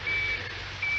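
A small pocket radio receiver gives out high, steady electronic beeps: two loud tones with a brief pause between them over a low background hum, close and clear.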